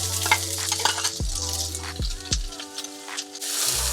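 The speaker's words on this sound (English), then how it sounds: "when my oil starts to shimmer, I'm gonna add the onions and the whites of the spring onions." Onions and spring onion whites hit shimmering hot oil for roast pork fried rice, giving a steady close sizzle with stirring clatter and scrapes throughout, no talking.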